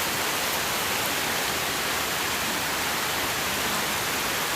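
Steady, dense rain pours without a break in the Khmer countryside, a loud even hiss close to the microphone that fills the whole stretch with no voices.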